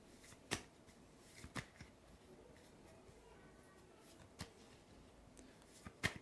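Playing cards shuffled during a card magic trick, heard as a few sharp riffling bursts spaced a second or so apart over a quiet room.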